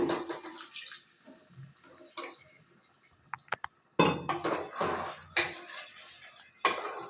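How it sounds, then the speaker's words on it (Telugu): Water splashes and trickles into a metal cooking pot of mutton and potato curry amid clinks of utensils and dishes, with a few bursts of louder pouring. "ఇక్కడ నేను కొంచెం వాటర్ వదులుకుంటున్నాను."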